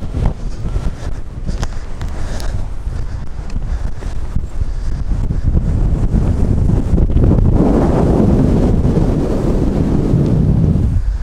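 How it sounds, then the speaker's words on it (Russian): Strong wind blows across open country dotted with yurts near a small town, roaring and buffeting the microphone without a break and growing louder through the second half, with no one speaking. "О, ветрюга дует просто."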